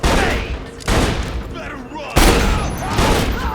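Shotgun blasts ring out in Borderlands 2, a few loud, sharp booms with decaying tails spaced roughly a second apart, the strongest near the middle.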